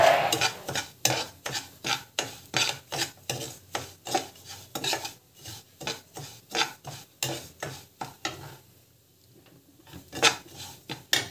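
Semolina roasting in a pan for kesari, stirred with a steady run of close scraping, rasping strokes, briefly pausing before the stirring resumes.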